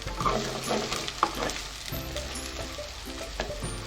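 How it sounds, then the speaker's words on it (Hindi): Garlic ginger paste frying in ghee for a mash daal keema dish gives a steady close sizzle, with faint stirring scrapes and no voices. "जैसे ही आप लहसुन अदरक की पेस्ट को घी में फ्राई करते हैं"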